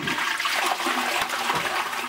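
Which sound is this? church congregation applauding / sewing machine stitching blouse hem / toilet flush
toilet flush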